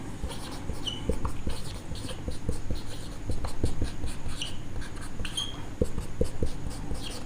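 A pen scratches steadily on paper while math problems are worked out. The scratching is continuous and close, with small tapping strokes throughout and no talk.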